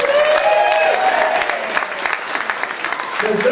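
A burlesque show audience applauds loudly and steadily for about three and a half seconds, dense clapping with scattered whoops and cheers mixed in.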